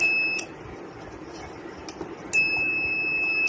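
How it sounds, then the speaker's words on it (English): Buzzers on a multi-functional smart wheelchair sound when an obstacle is detected, giving loud, sustained high electronic beeps in bursts: one at the start, a brief chirp midway, then a longer tone to the end. "When a obstacle comes from the side, from the front, and from the other side of the wheelchair, the buzzers starts beeping."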